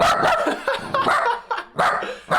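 A small female dog barks repeatedly and sharply at close range, several quick yapping bursts in a row with short gaps, no talking over them.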